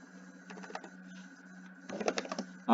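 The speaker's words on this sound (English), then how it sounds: "you should type in these codes" Typing on a computer keyboard, with scattered soft clicks, a short busy flurry of keystrokes in the middle and a denser burst toward the end over a steady low background hum.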